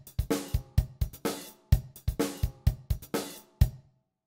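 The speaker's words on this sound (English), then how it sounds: "I'm going to very simply click down here to send the drums to the reverb channel." Drum loop sent to a reverb channel: punchy kick and snare hits in a steady rhythm, each followed by a short ringing reverb tail, played alone with no talk.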